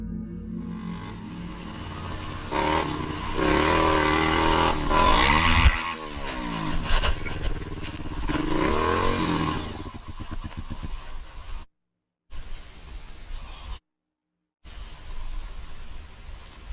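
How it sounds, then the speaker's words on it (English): ATV engine riding along a trail, a steady rough motor drone with a rise in revs around the middle, then a fading rumble broken by brief dropouts near the end. "riding his ATV on an unnamed trail"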